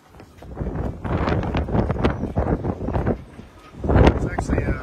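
Strong 40-knot wind buffets the microphone at a boat dock, a loud, continuous roar with gusty surges and a heavy blast near the end, with faint voices underneath.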